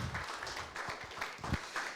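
A church congregation applauds together, a steady wash of clapping that fills the room at moderate loudness for about two seconds, with no clear speech over it.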